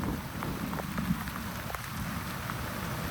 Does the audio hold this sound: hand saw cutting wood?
no